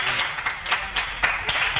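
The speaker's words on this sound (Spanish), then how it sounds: "¡Un aplauso!" An audience at a literary debate at the Cieza book fair claps in a brief, lively burst of rhythmic hand claps, fairly close and without speech.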